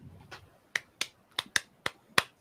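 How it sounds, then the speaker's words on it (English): Several people clap their hands one after another for a recording sync on a podcast: about six sharp, separate, close claps at uneven intervals in a quiet room. "I'll clap too"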